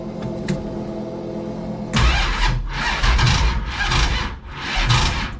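Starter cranking on a 1967 Dodge Dart drag car, several strained bursts of cranking in a row, loud and close, with no catch into a running engine.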